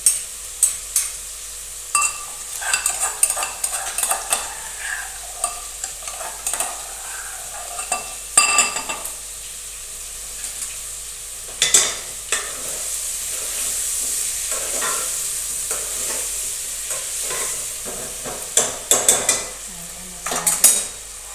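Chili paste fries in a pan of Indian-style brinjal curry, sizzling steadily while a metal spoon scrapes and clinks against the pan in irregular bursts, up close, with no one speaking.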